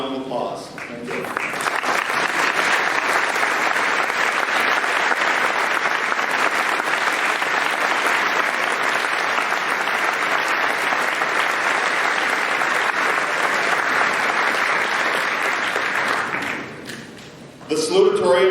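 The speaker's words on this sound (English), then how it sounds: "Would you please stand and receive a well-deserved round of applause?" A graduation ceremony audience gives sustained, loud applause lasting over fifteen seconds, a dense even roar of clapping that tapers off before a voice returns at the end.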